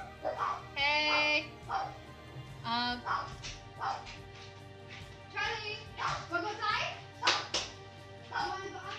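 A dog barks and yips repeatedly in a home kitchen while spicy pad thai is being cooked, with a voice and other talk mixed among the fairly close, uneven bursts.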